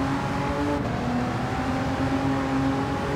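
A race car engine drones steadily under acceleration in Gran Turismo 7 on an Italian circuit lap, a continuous moderate hum with no breaks.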